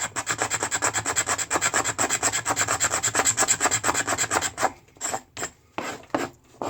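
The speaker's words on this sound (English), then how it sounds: "the sharper end of the blade to scrape it. It comes off nice and easy that way also" A knife blade scrapes shavings off resin-rich fatwood pine in a fast, steady run of close, loud rasping strokes, then breaks into a few slower, separate scrapes near the end.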